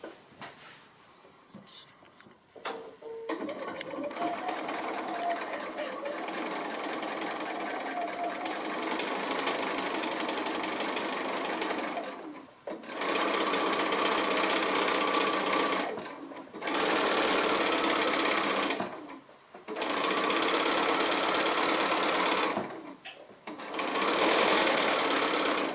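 A sewing machine stitches a pin cushion in fast, steady bursts, running several seconds at a time and stopping briefly between runs, close and clear with no talking.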